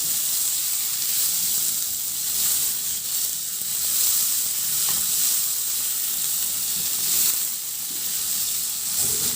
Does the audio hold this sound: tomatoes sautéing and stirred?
yes